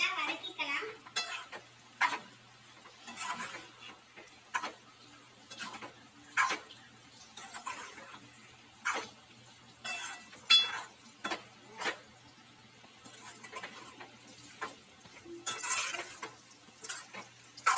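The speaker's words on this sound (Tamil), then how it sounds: "இப்போ நல்லா வதக்கிக்கலாம்." Pasta masala sautéed in a pan, heard as quiet, close scraping and clinking stir strokes at a loose, irregular pace over a faint sizzle.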